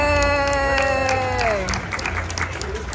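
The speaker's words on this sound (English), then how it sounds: "Give a round of applause, guys." An audience at a live movie-guessing game show applauds and cheers a contestant, with clapping rising under a sustained voiced cheer, then brisk scattered claps and crowd noise.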